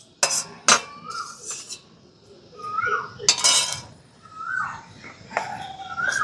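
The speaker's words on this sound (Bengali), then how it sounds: "ভালো করে মিশিয়ে নিতে হবে।" Puffed rice being mixed with chutney in a bowl, heard as clinks and scrapes of a spoon against the dish in irregular bursts, fairly close, with quiet background noise between strokes.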